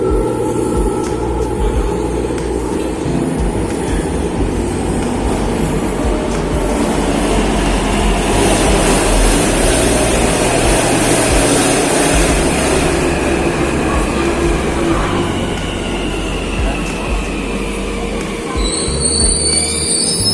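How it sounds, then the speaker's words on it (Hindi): A metro train in Telangana, India, rumbles loudly and steadily as it pulls in, with rail clatter and a faint squeal of wheels near the end. "वैसे हमारे मेट्रो आ गई है"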